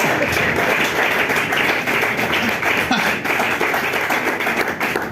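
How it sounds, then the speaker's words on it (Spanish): A church congregation claps hands in steady rhythm during worship, the dense, loud patter running continuously under faint voices. "dele palmas a Dios"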